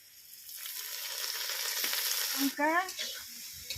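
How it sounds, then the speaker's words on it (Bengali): Bottle gourd leaves fry in hot oil in a village kitchen, a soft continuous sizzle that builds steadily, with a brief stirring scrape and a short tonal squeak near the end. "এবার এই লাউ পাতাটাকে আর একটু ভেজে নেবো খুব ভালোভাবে।"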